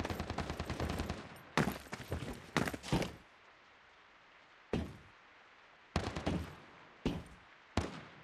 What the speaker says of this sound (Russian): Выстрелы пошли, где?